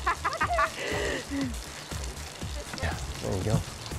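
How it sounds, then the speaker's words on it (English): Steady hiss of heavy rain pouring down, with several people talking over it close by. "The rain's coming in strong."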